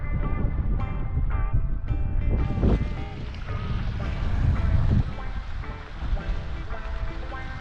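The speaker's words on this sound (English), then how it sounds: "The wind has come up. It was calm as, but now it's windy as hell." Strong wind buffets and roars across the microphone out on the water from a fishing kayak, loud and continuous with gusts rising and falling, water sloshing beneath.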